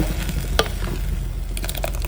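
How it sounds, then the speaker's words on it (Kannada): Spinach gravy boiling in a covered pan on the stove makes a dense, close bubbling sizzle with scattered pops and a brief scraping stir. "ಈಗ ಚೆನ್ನಾಗಿ ಕುದಿ ಬರ್ತಾ ಇದೆ."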